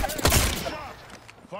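Rapid bursts of automatic gunfire in the Apex Legends video game, loud and close at first, then tapering off into scattered fainter shots with a brief game voice line near the end.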